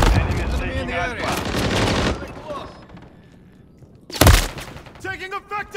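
Gunfire from a Call of Duty Modern Warfare 3 Remastered multiplayer match, with loud bursts and automatic fire mixed with game voice callouts and effects, plus a sharp blast partway through.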